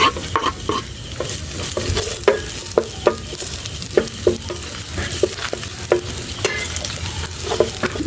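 Garlic and onion sizzle steadily in hot cooking oil in a pan, with a utensil scraping and clinking in repeated sharp taps over the constant frying hiss, close by and without speech.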